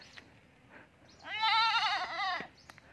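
A young village goat that is growing bigger bleats once, a loud wavering cry lasting about a second, close by with quiet surroundings and no talk.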